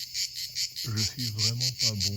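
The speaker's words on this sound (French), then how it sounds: "Ça fait 3 jours que j'essaie de voir une cigale. Et j'y arrive pas. Pourtant il y en a là, hein." Cicadas buzzing along a rural stretch of the Camino de Santiago, a steady pulsing high drone that continues throughout while someone speaks briefly in French over it.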